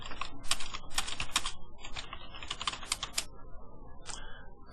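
Quiet, rapid keystrokes on a computer keyboard, clattering in uneven bursts with brief pauses between words, close and alone without speech.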